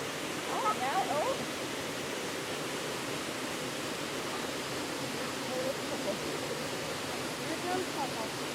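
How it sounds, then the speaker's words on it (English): A waterfall with heavy flow produces a constant broadband roar of rushing water, steady and unbroken, heard from a short distance on a mountain trail with faint voices at the edges. "It's a pretty waterfall."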